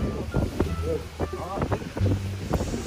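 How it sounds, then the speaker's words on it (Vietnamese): Strong wind gusting outdoors during a rainy storm, loud buffeting roar on the microphone with people talking and clattering over it. "cuồng gió này hút căng quá"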